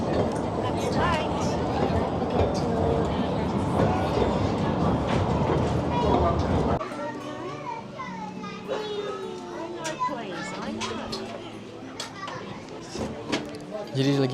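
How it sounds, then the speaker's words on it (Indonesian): A train rumbles loudly under the chatter of playing children for the first half, near and continuous, then cuts off abruptly, leaving quieter voices and scattered sounds on a day trip around Margaret River near Perth. "There's the train. We're going on it."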